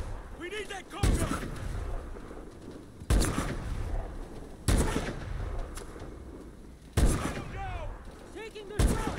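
Gunfire in Call of Duty: Advanced Warfare during an Antarctic cargo assault, loud bursts of shots cracking out at roughly two-second intervals over a constant combat rumble, with voices barking orders between the volleys.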